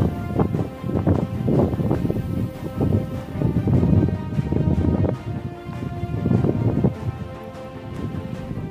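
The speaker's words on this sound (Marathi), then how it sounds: "एकदम जबरदस्त वारा सुटलाय." Strong wind buffets a stone fort bastion at Dategad on a hilltop, gusting unevenly into the microphone. The roar swells and eases in repeated waves and is heard alone, without talk.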